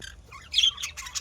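Pet budgerigars and pineapple conures in a cage give a quick burst of faint, shrill squawks and chirps, brief and slightly distant.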